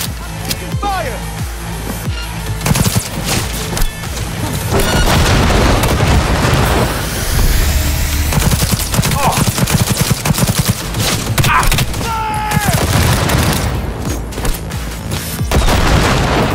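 Gunfire rattles through a hard-difficulty Cyberpunk 2077 fight, with bursts of rapid shots, booms and impacts layered densely and loudly over game sound and voices throughout.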